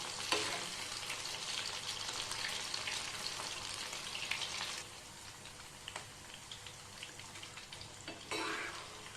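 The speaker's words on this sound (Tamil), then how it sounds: "ஒரு 10 நிமிஷம் நல்லா வெந்துருச்சுனாக்கா போதுங்க. இந்த சலசலப்பெலாம் அடங்கிடும்." Chilli Chicken 65 fries in hot oil with a continuous crackling sizzle, close and moderately quiet, the bubbling dipping slightly partway through and flaring again near the end.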